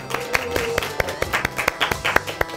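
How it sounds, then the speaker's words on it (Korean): A small audience at a Hebrew reading class claps in a short burst, sharp individual claps spaced unevenly and fairly close, with faint room tone underneath. "박수"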